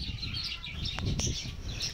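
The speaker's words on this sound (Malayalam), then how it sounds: "ഇതിലിപ്പോൾ ഒരുപാട് വെറൈറ്റി പക്ഷികളൊക്കെ ഉണ്ട്." Small birds, including conures, chirp inside a home aviary built of hollow bricks and wire mesh, giving a lively cluster of high, overlapping tweets up close.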